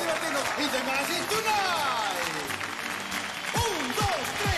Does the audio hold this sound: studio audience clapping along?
yes